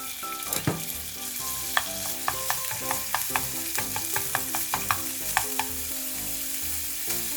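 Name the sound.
ground beef frying with garlic in oil in a pan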